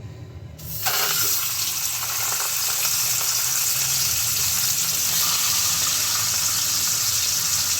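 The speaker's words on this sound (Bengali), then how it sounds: "মাথাগুলো আমি ভালো করে ভাজবো" Rohu fish heads drop into hot oil in a wok and burst into a loud, dense sizzle that continues steadily after a short quiet start.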